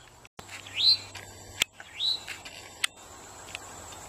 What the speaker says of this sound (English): There's a bird there